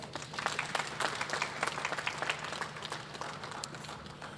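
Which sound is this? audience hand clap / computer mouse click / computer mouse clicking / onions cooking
audience hand clap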